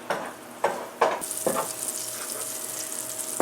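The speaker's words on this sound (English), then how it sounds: "I have 1 tablespoon of olive oil and 1 tablespoon of butter in my pan, heating up right now on medium-high" Olive oil and butter heating in a frying pan on medium-high, a steady close sizzle with a few sharp clicks and knocks at the start, then a continuous bright hiss.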